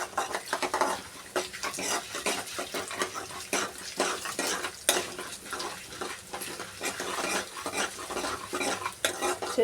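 Horse gram flour stirred into a sizzling tempering in a pan, with a steady rhythm of spoon or spatula scraping against metal over soft frying crackle, close and continuous with no talking.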